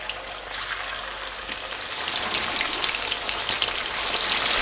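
A second batch of black pepper chicken fries in oil over a medium flame, giving a steady, dense sizzle with crackling pops that grows slightly louder over time, close by with no talking.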